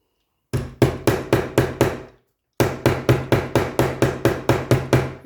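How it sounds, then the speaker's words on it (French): A small mallet taps metal corners onto a clipboard: two quick runs of about six to eight sharp, evenly spaced knocks each, close and loud, with a short silence between them and no talking. "il ne faut pas prendre un marteau en ferraille, hein, faut prendre un marteau, un petit maillet"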